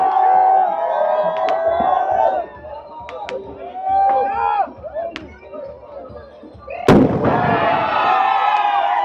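At a crowded Chaharshanbe Suri street party in Iran, a sharp firecracker explosion bursts out loudly amid shouting and cheering, with people talking throughout.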